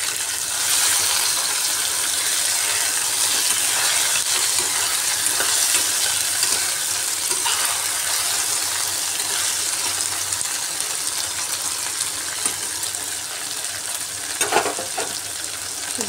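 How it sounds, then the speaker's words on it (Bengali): Small morla fish frying in oil in a pan, giving a loud, steady, close sizzle throughout, with a brief clatter of utensil movement near the end. "এদিকে মাছগুলো ভাজা হতে থাক,"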